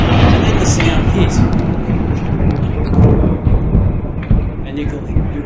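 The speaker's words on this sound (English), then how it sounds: "you will hear a series of explosions as individual pieces finally exploded, like machine gun fire" Rolling, rumbling booms echo after a large blast, a dense continuous roar with scattered sharper cracks like distant gunfire, loud and reverberant throughout.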